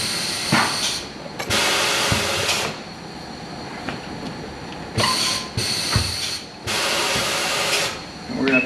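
A tire changer machine breaks the bead of a tire off its wheel, with loud bursts of pneumatic hissing and thumps that repeat several times between quieter stretches of workshop hum, close by.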